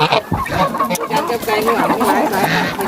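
Chickens and geese on a mixed poultry farm that also keeps turkeys make overlapping clucks and honks, a busy, fairly loud chorus of calls running throughout.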